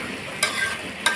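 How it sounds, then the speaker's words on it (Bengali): Potatoes and spices sizzle in a pan for an aloo dum, with a steady frying hiss and two sharp scraping stirs. "তারপরে লাগিয়ে সব একসাথে মিক্স করে ভাজা ভাজা করে নেব"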